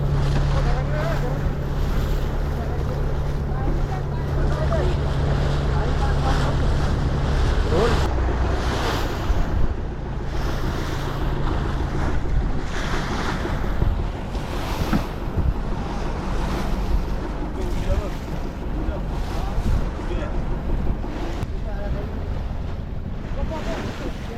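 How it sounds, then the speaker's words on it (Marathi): A fishing boat crosses the open sea on a deep-sea fishing trip, its engine rumbling under constant wind buffeting and waves washing against the hull, loud and close throughout. "आता आपली बोट मासेमारीच्या ठिकाणावर पोचणार आहे"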